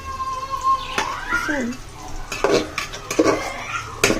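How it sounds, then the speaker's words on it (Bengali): Cabbage already boiled with salt and turmeric is stirred in a pan with small potatoes, a spoon scraping and clinking against the metal in bursts over a low sizzle, while a person talks throughout. "আজকে হচ্ছে পাতাকপি ভাজি করতেছি।"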